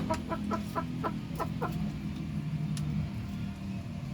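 Chickens cluck near a backyard chicken coop on a homestead, giving a string of short rhythmic clucks at moderate distance over a steady low background hum, with no talking.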